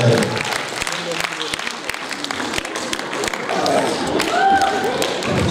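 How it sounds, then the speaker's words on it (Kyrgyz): Audience clapping at a creative talent contest stage show, sharp individual claps standing out over a crowd, with voices and music sounding in the background. "Кол чабып коштоп тосалабыз."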